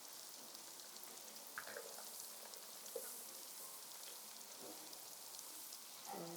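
Cabbage frying with onions in a pan for a chicken liver meal with ugali, a steady soft sizzle with faint scattered clicks and a brief stir near the end.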